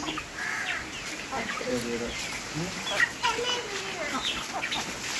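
Chickens cluck and chicks cheep in scattered bursts close by, while people talk over them.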